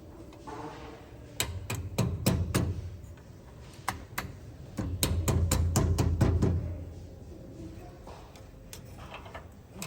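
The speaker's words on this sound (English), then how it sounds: "I can try and hammer it in." A run of sharp metallic taps as a spacer is hammered in during torque arm installation on a Peterbilt 362 cabover truck, struck in two quick bursts with a pause between, close by against low background hum.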